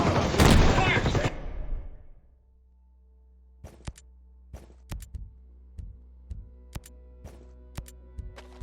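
Ghost Recon: Breakpoint gunfire opens with a loud, roaring volley that fades out, followed by scattered sharp single shots at uneven intervals, quieter and farther off.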